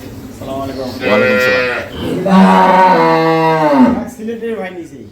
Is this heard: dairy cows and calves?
yes